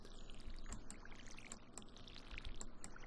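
A watering can pours water onto a crop square in the Stardew Valley farming video game, a faint, steady trickle running throughout, broken by small clicks and splashes.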